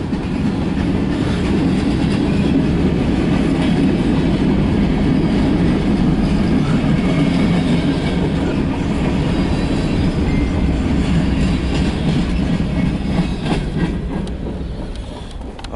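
A CSX local mixed freight train passing close by, a loud continuous rumble of cars rolling with clickety-clack from the wheels over the rails throughout.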